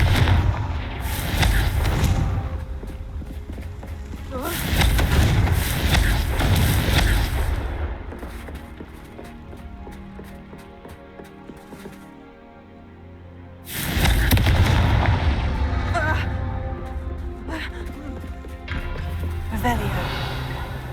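Confringo blasting spells explode repeatedly in Hogwarts Legacy, heavy booming bursts arriving in separate waves with quieter gaps between, while a voice speaks over the gameplay.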